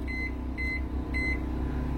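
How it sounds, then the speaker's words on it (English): Microwave oven in an RV running on generator power gives three short, clear electronic beeps over a steady low hum of the running appliance as its clock is set. "Our microwave is now on."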